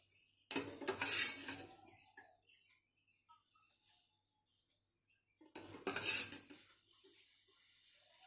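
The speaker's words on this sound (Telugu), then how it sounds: "స్టవ్ వెలిగించుకొని గిన్నె పెట్టేసి దీంట్లో ఆయిల్ యాడ్ చేసేయాలి" A cooking vessel set down on a lit stove for tempering sambar gives two sharp metallic clattering bursts about five seconds apart, close and fairly loud, with quiet room tone between and no talk.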